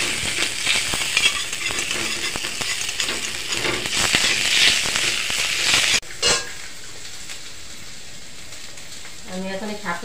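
Dried red chillies fry in hot oil in a pan, giving a loud crackling sizzle with stirring scrapes. The sizzle cuts off abruptly partway through, and a voice talks faintly near the end.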